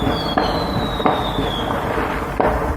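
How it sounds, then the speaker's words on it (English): Dense crackling and popping of fireworks going off continuously at a distance, with a few louder bangs and a thin high whistle gliding down. "Can hear them all going off."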